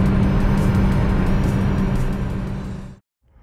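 Ford Fiesta 1.0 Sedan cruising fast on a highway gives a steady, loud engine drone with road and wind noise inside the cabin, ending in a sudden cutoff.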